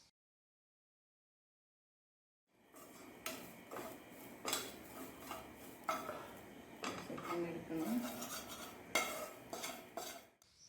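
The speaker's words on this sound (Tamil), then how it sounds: "தேங்காவையும் அதோட மாய்ஸ்சர் போகிற வரைக்கும் நம்ம வறுத்துக்கலாம்." A spoon scrapes and clinks against a pan as grated coconut is dry-roasted and stirred, producing a steady run of close metallic scraping and tapping after a short silence.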